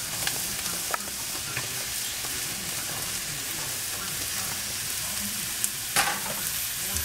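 Mushrooms sizzle and fry in a pan alongside beef shanks, a steady close crackle with occasional stirring clinks, no voices.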